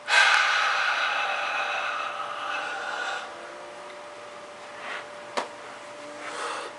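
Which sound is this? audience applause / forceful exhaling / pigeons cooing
forceful exhaling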